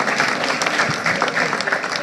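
Applause from a small community audience at a talk at Solidarity House in St. Michael, a dense, steady patter of many hands clapping at moderate loudness for about two seconds, with no clear voices over it.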